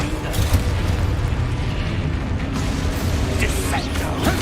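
A Confringo fire spell explodes in a Hogwarts Legacy duel: a heavy burst over a dense, continuous roar of combat rumble and crackle that stays loud throughout.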